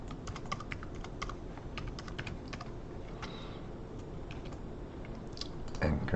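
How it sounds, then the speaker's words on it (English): A password is typed on a computer keyboard with a quick, irregular run of light, close key clicks over a steady background hiss, ending in a slightly louder flurry. "we'll type a password"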